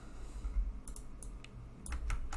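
Quiet, close clicks of keys on a computer keyboard while entering database commands on an Ubuntu server, arriving in two short uneven bursts over a low background hum.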